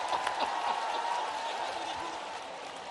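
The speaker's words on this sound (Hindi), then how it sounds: "आपने आधा बजाया, जोरदार ताली बजाओ इनके लिए भी" An audience at a youth dialogue event in Gwalior claps in a dense, steady burst of applause that fades slightly over a few seconds, with faint crowd murmur underneath.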